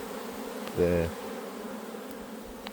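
Honey bees in a strong, crowded colony in a honey-bound hive, being smoked during an inspection, give off a steady, close buzzing hum, briefly interrupted by a single spoken word.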